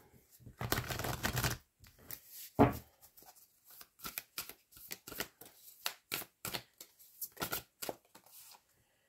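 Tarot cards being shuffled in quick riffling bursts, a long dense run early on followed by a sharp slap and then a steady series of short crisp flicks, close and fairly quiet with no talking.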